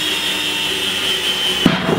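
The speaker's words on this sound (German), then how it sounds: "Und da nehmen wir die Bohrmaschine für," An electric drill bores drainage holes into a plant container, its steady high motor whine running loud and close for the whole stretch, with a brief knock as the bit catches near the end.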